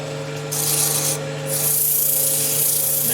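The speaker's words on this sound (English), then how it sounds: "I'll turn it on and bring the speed down just a little bit. Sand the inside there." Sandpaper is held against the inside of a spinning wooden goblet on a lathe, making a close, hissing rub over the motor's steady hum. It starts, breaks off briefly, then resumes.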